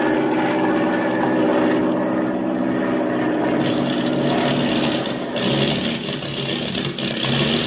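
An old airplane engine flying out over the Indian Ocean runs rough with motor trouble, a radio-drama sound effect of a continuous droning, sputtering roar that wavers in strength and stays loud throughout.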